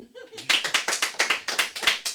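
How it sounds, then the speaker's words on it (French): A small group claps in a quick, regular rhythm for a choreographer, close and fairly loud bursts of hands starting after a brief murmur of voices. "Applaudissez."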